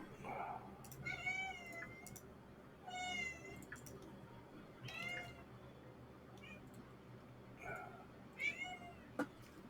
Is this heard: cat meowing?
yes